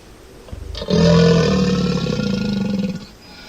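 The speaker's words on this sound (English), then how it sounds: "crocodile" A crocodile gives a deep, rumbling roar that swells suddenly and holds loud and close for about two seconds before fading away.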